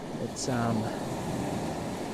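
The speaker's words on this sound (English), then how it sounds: "It's nice to be up here in the waves." Ocean surf at the seashore near 1770, Queensland, Australia, makes a steady broad wash with some wind, while a voice briefly speaks over it.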